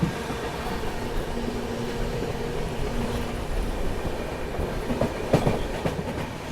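The Ananya Express passing on Indian rails, a steady low rumble and rolling wheel noise with faint clicks of rail joints, heard from inside another moving train, moderately quiet and continuous.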